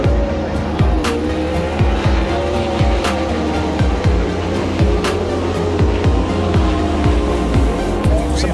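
A race car drives fast on a racing circuit, its engine loud and close with a repeated rising whine as it shifts through gears, and tire noise and brief sharp clicks mixed in.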